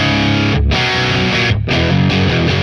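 An electric guitar boosted through a Stone Deaf PDF-1X pedal gives thick, distorted sustained chords that ring loud and close, broken by two brief gaps, with no talking.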